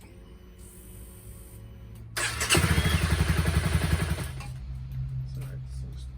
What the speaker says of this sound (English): I'm going to run it for a minute so we can drain the oil